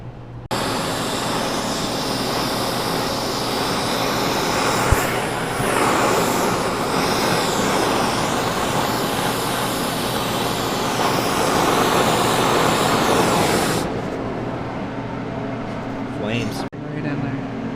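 A torch roars steadily as it heats a steering part before welding, a loud continuous broadband rush lasting about thirteen seconds before it cuts off, followed by brief quieter handling sounds.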